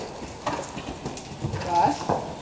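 A horse canters in a riding arena, muffled rhythmic hoofbeats in a steady three-beat pattern, fairly faint, while people talk in the background.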